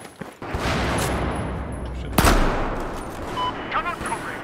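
Sustained gunfire in a 5v5 shooter video game match, a dense, steady clatter with one sharp, louder crack partway through, with players talking over it.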